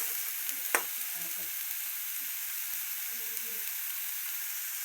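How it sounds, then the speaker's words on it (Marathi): Spice masala roasts in oil in a pan, giving a steady, even sizzling hiss throughout, with a single clink of a spoon early on and faint stirring; close and moderately loud, with no voices. "बघा का चांगला मसाला भाजायचा असा तेलात चांगलं पडतायचं"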